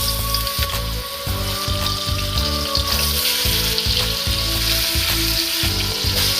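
Oil sizzles and crackles steadily in a pot on a stovetop, a close, constant frying hiss with faint clinks and stirring over a low rumble.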